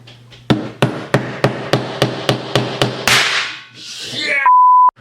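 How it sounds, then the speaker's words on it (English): Nine sharp, evenly spaced hammer strikes ring out up close on a homemade firecracker charge, followed by a burst of hissing noise and then a short steady electronic beep. "I'm gonna hit it with the hammer."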